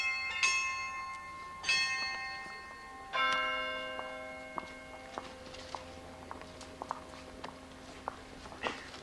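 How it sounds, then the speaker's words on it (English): Church bells ring out in a few loud, resonant strikes that hang and decay, followed by lighter scattered chimes ringing on in the distance. "Church bells chiming"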